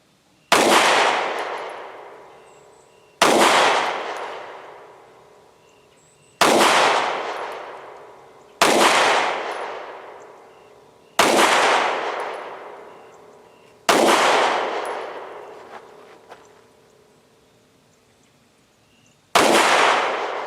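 Seven loud single shots from a Kel Tec P-15 pistol, fired at steady intervals of about three seconds, each with a sharp crack and a long decaying echo.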